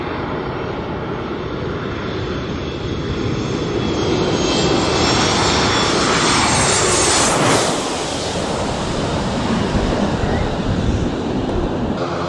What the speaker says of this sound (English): Got a small propeller plane coming out now.